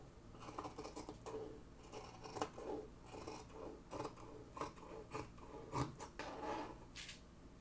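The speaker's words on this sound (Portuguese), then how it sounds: "Eu tô cortando ele dessa altura aqui pra ele ficar um pouquinho mais compridinho." Scissors cut through dress fabric with quick, rhythmic snips, each crisp close-up chop repeating every half second or so, with no talking.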